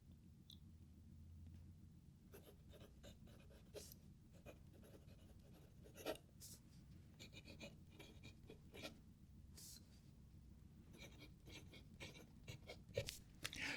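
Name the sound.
fountain pen with medium nib writing on paper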